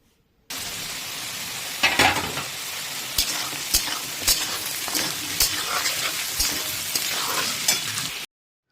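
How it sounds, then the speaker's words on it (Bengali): Chopped onion sizzles alongside half-fried potato pieces in a hot oiled pan, a steady close frying hiss punctuated by sharp scraping stirs and clacks of a spatula, with no talking. "এতে দিয়ে দেবো কেটে রাখা পেঁয়াজ"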